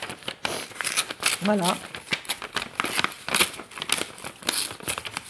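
Paper being roughly cut up with scissors for a small spell, a run of crinkling snips and rustles close by, with a voice speaking briefly over the cutting.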